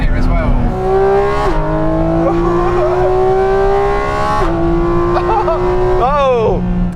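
A Porsche 911 GT3 or GT4RS races around a circuit, its engine screaming loud and close through rising revs, with sharp gear shifts and quick downshift blips near the end.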